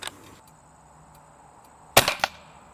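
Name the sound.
air gun shots firing Harpex pellets into MDF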